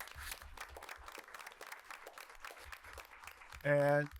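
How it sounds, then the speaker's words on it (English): An audience at a Mount Clemens school board meeting applauds students honored for scholarships, a steady patter of clapping running under ongoing talk before a short, loud tonal sound near the end. "We want to give them a big round of applause."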